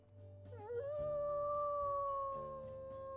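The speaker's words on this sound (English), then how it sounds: "Howl with me, Jasper." A dog lets out a long, rising howl that wavers briefly, then holds a steady, drawn-out tone before tapering off, fairly faint and close with no talk over it.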